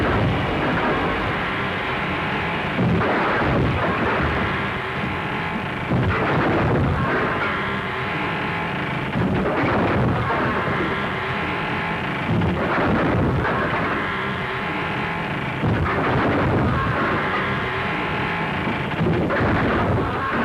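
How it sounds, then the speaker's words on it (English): Gunfire rings out in a 1935 Western, heavy booming shots recurring every few seconds over a constant loud rumbling wash, with no speech. "Firing at him from the window."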